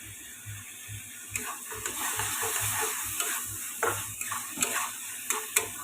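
Cumin powder and garam masala frying in a pan over a gas flame: a soft continuous sizzle with repeated scraping stirs of a utensil against the pan, fairly quiet and close.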